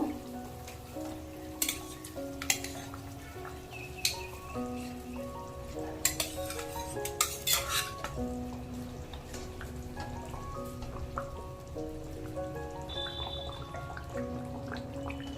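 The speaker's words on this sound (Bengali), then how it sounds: "এবার মাছগুলোকে ছেড়ে দেব।" Pangas fish pieces dropped into simmering spiced broth in a pan, with steady sizzling and bubbling, occasional soft plops and clinks as pieces go in, and a melody playing underneath.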